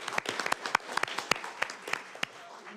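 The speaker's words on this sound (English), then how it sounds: "If we can give them a big round of applause, everyone" Scattered applause from a small audience at a county board of supervisors meeting, a few dozen irregular, fairly faint claps in a short burst.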